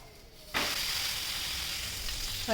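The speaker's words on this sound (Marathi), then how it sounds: "तेल टाकून धपाटे भाजून घ्यायचे" Dhapate flatbread roasting with oil on a hot griddle: a sudden burst of sizzling as the dough hits the pan, then a steady frying hiss that continues evenly.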